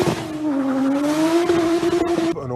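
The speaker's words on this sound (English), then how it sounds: "And the exhaust sounds quite throaty." A tuned BMW E90 330d with a 3.0-litre M57 diesel engine gives a throaty exhaust note that rises steadily as it accelerates, sustained and close for a couple of seconds before cutting off.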